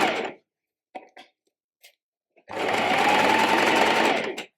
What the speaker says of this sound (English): I'm going to start to sew along these lines.